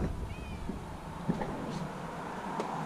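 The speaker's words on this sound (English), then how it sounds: "Hey kitty cat." A cat meows once, faint and a short distance off, beside an outdoor workspace where a parts car sits up on jacks; low background hum fills the rest.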